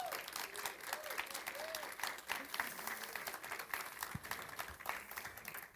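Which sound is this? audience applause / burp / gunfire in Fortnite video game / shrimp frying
audience applause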